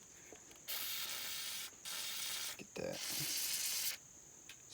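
Aerosol spray hisses onto the frame of a 2000 Dodge Neon during battery tray and transmission mount bracket work: three steady, close bursts of about a second each, with a brief spoken remark before them.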